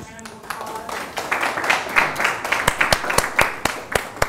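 An audience at a poetry lecture breaks into a round of applause, starting thin and swelling into steady, close clapping, with sharp individual claps standing out over a murmur of voices.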